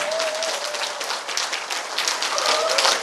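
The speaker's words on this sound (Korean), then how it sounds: "또 치란 말이 아닌데도 또 박수를 쳤다는 것은" A room full of people applauding, a dense, steady wash of clapping that swells slightly toward the end.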